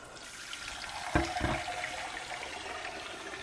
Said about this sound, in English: What I'm adding right now is just water